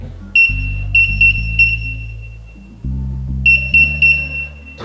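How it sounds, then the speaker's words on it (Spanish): Alarm of an Arduino ultrasonic distance sensor gadget for the blind: loud, close electronic beeping in repeated short bursts over a buzzing tone, pausing briefly before resuming. "aquí tenemos la alarma"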